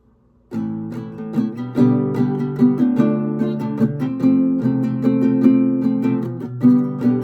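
Guitar playing a song with a continuous strumming pattern, dense rhythmic strums over changing chords starting after a brief silence, loud and close with no voice.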